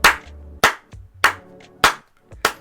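Five loud, slow hand claps at an even rhythm, each sharp and close, with a low musical tone sounding between them.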